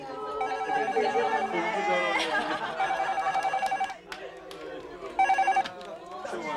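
A telephone ringing indoors in a radio drama scene: repeated bursts of electronic trilling rings, with voices and background sound around them.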